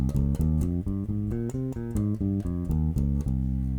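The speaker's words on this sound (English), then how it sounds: "If I play a C Phrygian scale, it sounds like this." Bass guitar notes climb and descend a C Phrygian scale one at a time in an even rhythm, played cleanly and alone.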